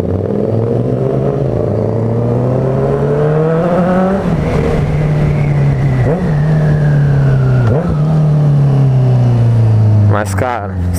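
Motorcycle fitted with a full 4-2-1 exhaust, loud close engine droning and rising in revs, then dropping back with crackling pops, continuous throughout.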